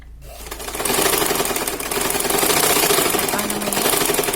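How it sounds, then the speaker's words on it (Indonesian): A sewing machine runs steadily at high speed, loud and close, stitching a pleat on a lined batik shirt in one continuous mechanical whir. "Ini kita jahit untuk lipitnya"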